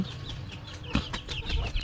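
Chickens kept in a home coop with an open run for sunning and a roosting area at night give soft, scattered clucks and thin chirps, fairly faint and steady throughout with no voices.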